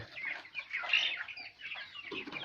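Busy clucking and chattering from a group of farmed ducks, steady and fairly close, with overlapping calls rising and falling throughout.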